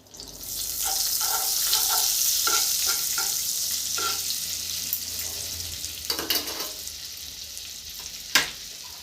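Ghee sizzling and frying with mixed vegetables in a pan, a steady crackling hiss with clattering stirring strokes and a sharp knock near the end.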